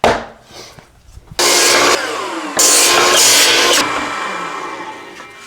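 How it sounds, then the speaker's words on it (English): Two loud, harsh bursts from a power saw cut wooden dividers for a pantry can dispenser, with a brief pause between them and the blade whining down after the second cut. "Now I'm gonna cut the dividers for the cans next"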